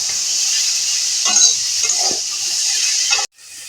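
Potatoes with turmeric and salt fry in a pan for a soybean and egg dish, a steady bright sizzle broken by a few scraping stirs, close and loud, then cutting off abruptly near the end.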